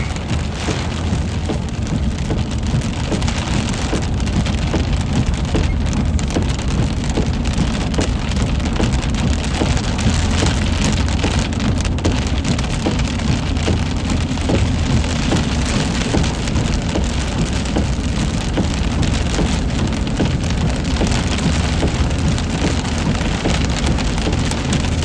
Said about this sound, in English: Rain is taking hold.